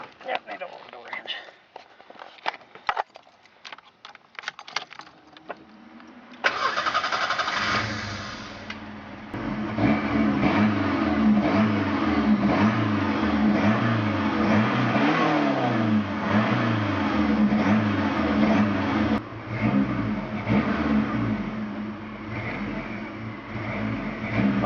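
A Ford Mustang's 2.3-litre turbocharged engine cranks and catches, then revs up and down in repeated loud, rising and falling bursts up close, after a stretch of footsteps and handling noises, with speech over it.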